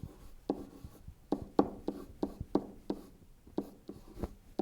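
A probability formula gets written out by hand, short scratchy strokes and taps from the pen coming in quick irregular bursts, close up and fairly quiet.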